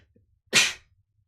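A single short, sharp sneeze bursts out close to the microphone and fades within a fraction of a second, with near silence before and after.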